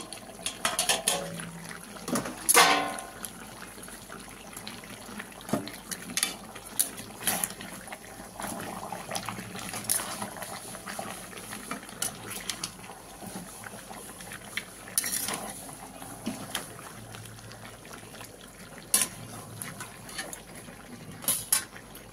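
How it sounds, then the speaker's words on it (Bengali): A spoon works through chicken meat in a cooking pot while making chicken biryani, producing scattered metallic clinks and wet scraping taps over a low simmering background. "এবার আমি মাংসটা একটু আগলা করে দেখে নিচ্ছি কি অবস্থায় আছে।"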